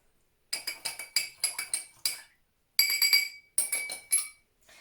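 A spoon clinks against the sides of glass cups while stirring sugar into water, producing rapid bursts of bright ringing taps in two close, fairly loud spells separated by a short pause.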